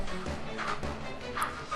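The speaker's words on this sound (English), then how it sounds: "My dogs are making weird noises upstairs." Old dogs upstairs make odd yips and whimpering woofs, muffled and somewhat distant, over steady background sound from a video game.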